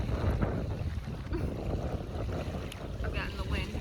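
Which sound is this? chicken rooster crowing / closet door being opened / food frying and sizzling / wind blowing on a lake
wind blowing on a lake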